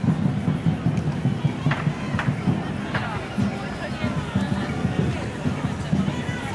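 Sunday-night crowd at Deák Ferenc tér in Budapest, a dense babble of many voices nearby with scattered louder calls and footsteps, continuous and moderately loud.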